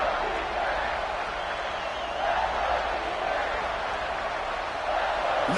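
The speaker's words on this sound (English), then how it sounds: "the crowd really making some noise now, trying to help out this defense" A football stadium crowd roars near the goal line during a college playoff game, a dense, steady wash of distant cheering that swells slightly at moments.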